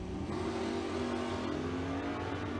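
Drag racing engines from an Oldsmobile and a Pontiac Firebird hold a steady, distant mid-pitched roar, faint and continuous with no voices over it.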